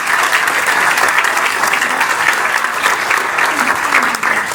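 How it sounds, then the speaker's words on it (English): Audience applause at the Music Box in Cleveland: loud, dense clapping from a crowd, steady and close throughout the few seconds. "so a big round of applause for those guys"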